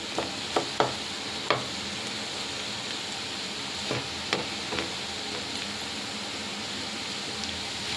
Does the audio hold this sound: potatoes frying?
yes